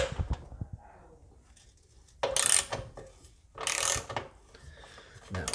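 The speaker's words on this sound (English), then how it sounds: "So we'll just get our socket wrench." A socket wrench ratchets on the bolts holding down an Acorn stair lift chair, two bursts of quick clicking heard up close, separated by quieter handling noises.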